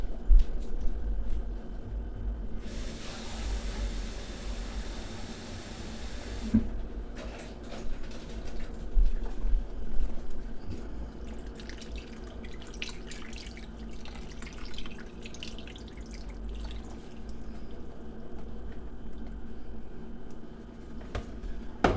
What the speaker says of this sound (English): I'm going to add approximately a half box of water to this.